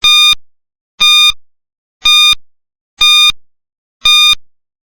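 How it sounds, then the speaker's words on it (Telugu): Five evenly spaced electronic timer beeps, about one per second, each a short bright tone burst, loud and alone with no talking, counting down during a brain teaser quiz. "దీనికోసం టైమర్‌ని ఆన్ చేస్తున్నా."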